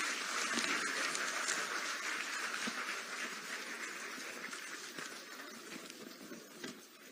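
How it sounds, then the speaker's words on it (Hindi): Audience applause at an appointment letter distribution ceremony, a dense, steady patter of many hands clapping that sounds somewhat distant and slowly fades over several seconds. "आपकी ओर से जोरदार तालियां होनी चाहिए।"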